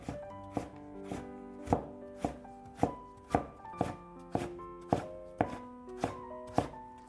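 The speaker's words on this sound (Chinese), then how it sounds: "先切成薄片， 再改刀切成细丝" A knife chops a peeled carrot into thin strips on a cutting board, about a dozen sharp, evenly spaced thuds in a steady rhythm, close and clear with no talk.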